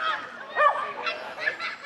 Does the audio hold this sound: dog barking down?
yes